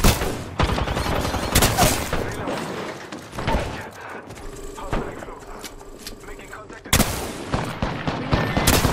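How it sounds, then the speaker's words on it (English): Gunfire in the video game Apex Legends: dense bursts of rapid automatic shots and loud impacts, with a quieter gap midway before firing resumes, and in-game voices at times. "They spotted me. I'm taking shots."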